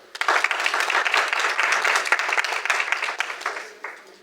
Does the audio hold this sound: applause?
yes